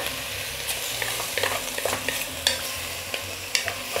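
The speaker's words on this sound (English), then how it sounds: "So this is going to start browning for us. Let me just give this a little stir." Wild game meat browning in a pot for a Polish stew, with a steady close sizzle broken by repeated scraping stir strokes of a utensil against the pot.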